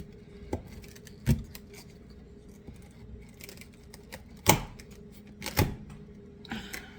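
A knife cutting a fennel bulb, giving a few sharp, crisp chopping knocks spaced irregularly over several seconds against a quiet kitchen background, close and fairly distinct.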